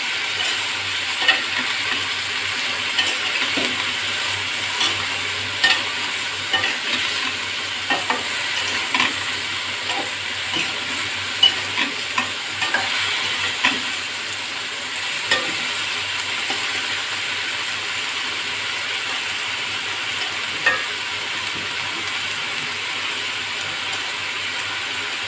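Onions fry in a pan with a little turmeric while being stirred, a steady close sizzle broken by frequent scraping clicks of the spoon throughout, with no talking.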